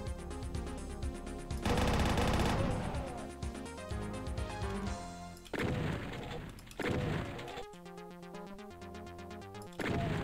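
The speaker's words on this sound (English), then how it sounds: "Wow, this chain gun is amazing." A chain gun in the retro shooter Valiant fires in rapid, dense bursts of loud cracks and booms over steady game music, with repeated volleys and brief pauses between them.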